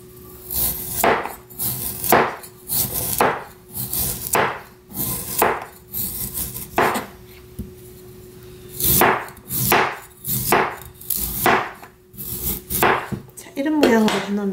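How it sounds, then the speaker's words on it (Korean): A knife shaves about 300 g of Korean radish into thin slivers, pencil-sharpening style, for fresh codfish soup, giving repeated close, crisp cutting strokes against a board in an irregular rhythm, with no talk. "무는 이렇게 요런 식으로 이제 연필 깎듯이"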